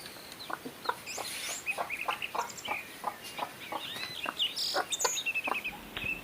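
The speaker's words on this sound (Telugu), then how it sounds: "పిలుస్తుంది చూడండి పిల్లలకి పెట్టడానికి" A country hen clucks in a steady run of short, repeated calls to her chicks over food, with faint higher chirps of chicks scattered around it.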